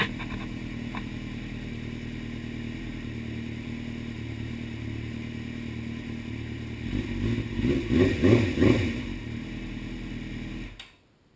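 A 2000 Suzuki GSX-R600 SRAD with bolt-on modifications idles nearby, a steady low engine drone that swells briefly with a few rough pulses before cutting off abruptly at the end.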